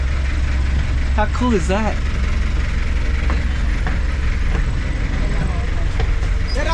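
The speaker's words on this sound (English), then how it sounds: "First ride on a jeepney." Steady low vehicle engine rumble of a jeepney ride, running continuously throughout beneath people talking and a brief excited voice.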